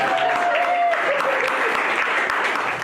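Audience at a library poetry slam applauding after the readings: dense, steady clapping from a crowd, close and lively, with a voice briefly heard over it.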